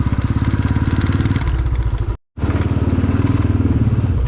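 A motorcycle engine throbs close by in a steady rhythmic putter, its pitch shifting as the bike slows to park. The sound cuts out briefly, then the engine idles on.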